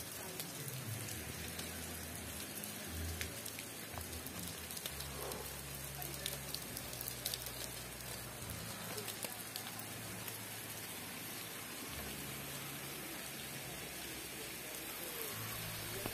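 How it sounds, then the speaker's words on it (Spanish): Steady rain falls during Hurricane Julia in San Miguel, El Salvador, a dense, even hiss of drops on surfaces that continues unbroken throughout, with a low rumble underneath. "Ahorita está lloviendo de nuevo"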